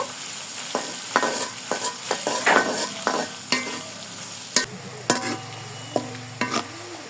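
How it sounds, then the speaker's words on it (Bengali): Two medium chopped onions frying in hot oil for chicken haleem, a steady sizzle broken by intermittent scraping and clinking as a spatula stirs the pan, close and clear with no voices. "পেঁয়াজগুলোকে বাদামি কালার করে ভেজে নিব।"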